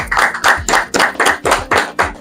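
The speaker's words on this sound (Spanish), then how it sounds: "Vamos a dar un aplauso." A small group in a studio claps in steady, evenly spaced bursts, about two claps per second, loud and close with no talk over it.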